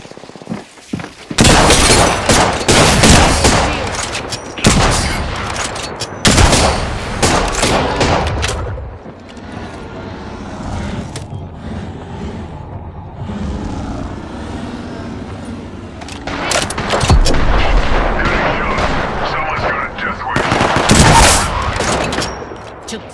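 Loud, close gunfire in the video game Apex Legends: dense bursts of rapid automatic fire in several long volleys, with a quieter stretch in the middle carrying fainter shots and game noise.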